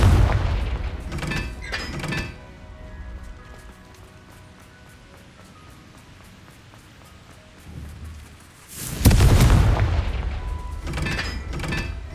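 Confringo blasting spell exploding in Hogwarts Legacy, a loud booming burst with crackling debris at the start and another heavy blast later, over a soft steady rain-like background.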